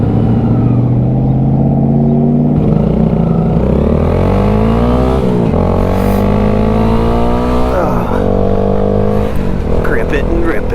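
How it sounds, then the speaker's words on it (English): Road traffic passing around a 2022 Honda Grom motorcycle in motion, loud, steady engine drone with rising and falling pitch sweeps as vehicles pass close by, continuous throughout. "you got to deal with this kind of traffic"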